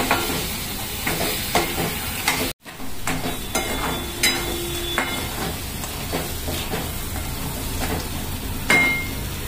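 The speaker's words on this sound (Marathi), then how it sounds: "त्याच्यात हे असे खेकडे टाकायचे आणि खेकडे चांगले परतून घ्यायचे" Crabs tossed and sautéed in a pan for a spicy Malvani crab curry, giving a steady sizzle with scraping stirs and occasional clinks, one brief dropout partway through.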